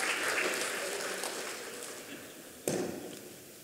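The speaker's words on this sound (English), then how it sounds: "can we please have a warm round of applause for the plenary session and the entire panel" Fairly faint applause from a conference audience for a plenary panel and moderator, a soft broadband patter fading gradually, with one sharp thump near the end.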